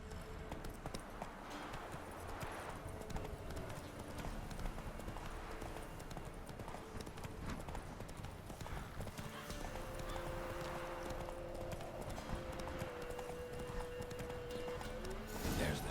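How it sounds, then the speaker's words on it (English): Horse hooves trotting in The Witcher 3 video game, a steady rapid clip-clop rhythm that runs throughout with occasional whinny-like tones and game ambience, close and prominent under intermittent speech. "Whoa there, Roach"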